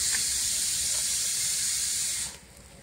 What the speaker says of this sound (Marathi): आता आपला तवा गरम झालेला आहे आणि आता आपण टाकतोय पोला